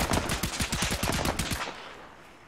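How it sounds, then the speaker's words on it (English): Rapid automatic gunfire in Arma 3 on the Tanoa map, a fast burst of repeated shots lasting about a second and a half, then abruptly stopping and fading into quiet. "be advised he's still taking fire."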